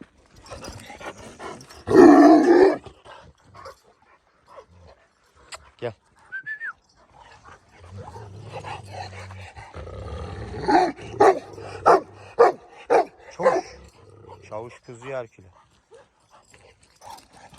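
A large, powerful dog with big paws and heavy bones lets out a loud growling bark, followed by lower rumbling growls and snarls. Someone talks over much of it.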